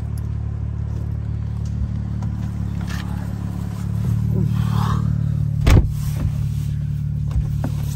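A 1000 hp car idles with a steady low rumble while a test drive gets underway, rising slightly in level midway with a brief sharp clack near the end; no one speaks.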